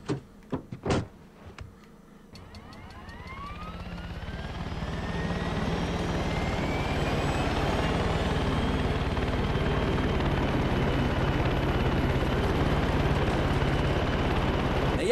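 Helicopter in the video game Far Cry 6 spinning up after a few door-like clunks, its rotor and engine rising in pitch over several seconds into a loud, steady roar that fills the rest of the clip.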